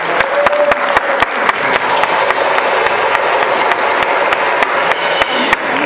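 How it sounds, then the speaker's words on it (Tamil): Loud, dense applause from an audience at a Tamil annual day stage show, right after a Pinnal Kolattam stick folk dance. A steady wash of clapping is punctuated by regular sharp claps or stick clacks throughout. "பலத்த கரகோஷம் ஒன் மோர் ப்ளீஸ்"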